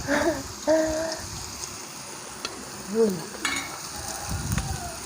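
Pork belly cooking on a Thai mu kratha grill gives a soft, steady sizzle, while people talk and laugh nearby and a few sharp clinks and spatters break in.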